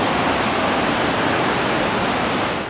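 Clear water flows among plants and trees in the Daintree rainforest, making a continuous, full rushing wash that stays loud and unbroken before easing slightly at the end.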